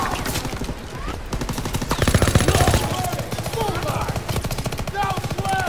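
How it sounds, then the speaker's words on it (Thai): Rapid gunfire in the D-Day mission of Call of Duty WW2, aimed at an oil barrel, dense automatic bursts close up with explosive cracks and faint battlefield chatter behind. "ยิงถังน้ำมันให้ระเบิดนะฮะเผาไปซะ"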